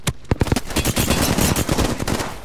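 Hemlock rifle fire in the Apex Legends video game, a rapid run of loud, close shots cracking in tight bursts with no pause over a couple of seconds.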